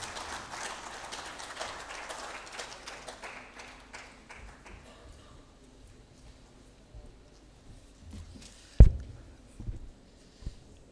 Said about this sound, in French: Et je vous prie d'acclamer nos brillants intervenants. Une pluie d'acclamations